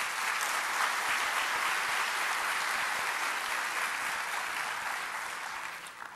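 An audience claps together in sustained, dense applause that holds steady and then fades slightly at the end, with no voices over it.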